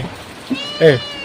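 A cat gives a short, close meow near the end of a brief quiet stretch, preceded by a faint softer mew.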